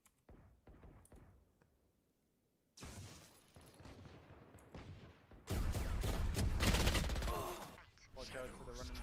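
Vandal rifle fire in a competitive tactical shooter match: bursts of sharp gunshots and rapid automatic volleys, loud and close, interrupted by quiet gaps, with an excited voice speaking over part of it.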